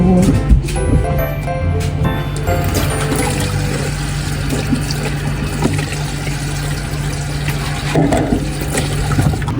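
Running water splashes steadily in a home kitchen sink while radish and yellowtail fish are rinsed, a continuous rushing flow with a low hum beneath and small clatters on top, fairly loud throughout.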